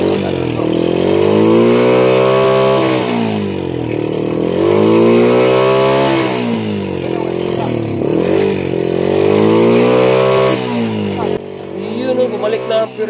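A Honda Wave 100 motorcycle engine revs repeatedly, rising and falling in smooth waves of throttle, loud and close, with a brief sputter near the end.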